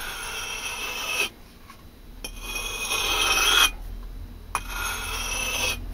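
A blade is drawn across a fine budget sharpening stone in repeated rasping strokes, each scrape a few seconds long with brief pauses between, close and fairly loud with no talking.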